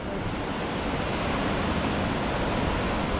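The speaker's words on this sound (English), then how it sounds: "You saw this beautiful waterfall?" Waterfall at the Palisades near Nipigon, a steady broadband rush of falling water heard close and loud without pause.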